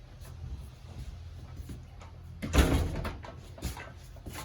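An RV pantry door behind the TV and fireplace of a 2025 Forest River Wildwood 25ICE is opened, a soft handle click and brief thump midway through a quiet interior.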